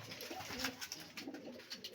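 A pigeon coos softly in low, repeated throaty notes, faint against a quiet background.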